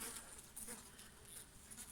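Faint, steady buzzing of many Anatolian honeybees close by between hive frames, a soft continuous hum with no talking.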